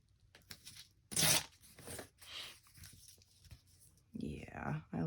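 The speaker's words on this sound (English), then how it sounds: "I could just kind of trim that down a little." Paper being cut and trimmed for a book page pocket craft, several crisp snipping and rustling bursts interleaved with someone talking quietly nearby.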